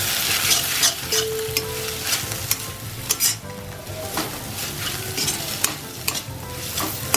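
Ginger and garlic sizzle in a hot pan while being stirred, a steady close frying hiss broken by scraping utensil strokes and light clinks against the pan, with no voices.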